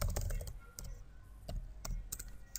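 Code is typed on a computer keyboard: clusters of quick, close key clicks with short pauses between bursts, quiet, with no talking.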